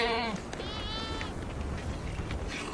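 Goats bleat in a Thar Desert village in Rajasthan, with a loud close wavering bleat at the start and a fainter one soon after, over a constant rough outdoor rumble.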